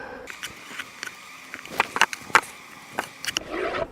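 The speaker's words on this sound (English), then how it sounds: "Now I'll try and scrape this off a little bit." Scraping debris off a wooden beehive bottom board, a series of short scratchy scrapes and knocks at irregular intervals, fairly close and moderately quiet, with no talking.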